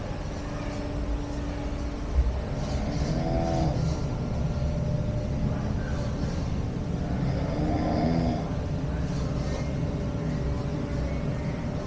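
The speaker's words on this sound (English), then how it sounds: "There's a snoring jail person in there." A snoring jail figure in a saloon museum exhibit, slow rasping snores repeating about every five seconds, fairly loud over a steady mechanical hum and room noise.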